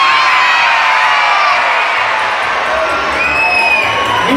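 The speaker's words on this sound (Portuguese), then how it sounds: "Todo mundo dá um grito bem alto," A large audience of children at a Patati Patatá show shouts and cheers loudly and continuously, a dense, sustained roar of young voices filling the venue.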